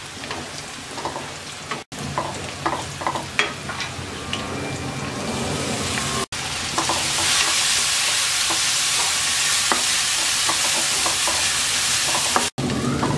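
Dried shrimp fried in a pan with onion, garlic and green chilli, crackling with scattered spatula scrapes at first, then settling into a loud, continuous, even sizzle; no speech.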